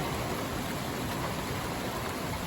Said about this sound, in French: Une forte pluie.